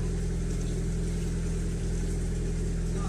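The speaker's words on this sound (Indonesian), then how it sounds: "Ada perahu nelayan mendekat ini Sapo." The motor of an approaching fishing boat near a bagan fishing platform at Wotu chugs close by, a loud, steady low-pitched throb with an even rhythmic pulse that continues unbroken.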